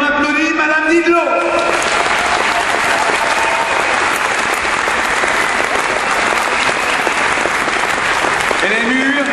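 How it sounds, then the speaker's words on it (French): A crowd at the 2009 centenary celebration of la Jeune Garde in Eloyes bursts into sustained, dense applause for Madame Didelot, steady and loud throughout, with a voice speaking briefly at the start. "on applaudit Madame Didelot"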